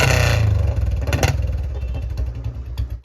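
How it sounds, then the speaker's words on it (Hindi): A 1998 Royal Enfield Bullet 350 with a very loud silencer revs up close, its thumping single-cylinder exhaust pulsing rapidly and staying loud, then dropping away at the end. "तो अब मैं इसको एक बार रेव करता हूँ और फिर आप इसकी साउंड सुनना"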